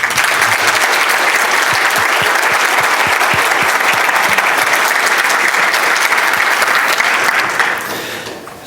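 An audience at a Python programming talk breaks into sustained applause welcoming speaker Kenneth Reitz, a dense, loud wash of clapping from many hands that holds steady for several seconds before tapering off at the end.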